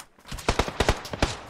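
Rapid gunfire in a video game: about eight sharp cracks in quick irregular succession, fairly faint and heard alone.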